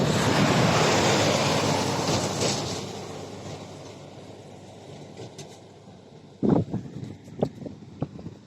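Swollen Ganga river in intense flood rushing beneath a bridge, a loud continuous broadband roar of churning water that eases slightly over time, with a few sharp knocks or thumps near the end.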